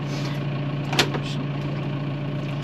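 A tractor engine idles steadily with a low, constant hum and drone, with one brief knock partway through.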